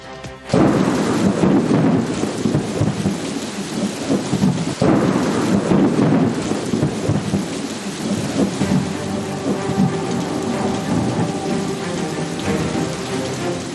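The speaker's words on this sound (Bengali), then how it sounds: "প্রবল দুর্যোগ, ঝড় বৃষ্টি, শিলাবৃষ্টি" A violent thunderstorm over Kolkata with heavy rain and hail, steady loud downpour drumming on surfaces under rolling thunder, with two strong rumbling bursts early on before the rain settles into a dense, even roar.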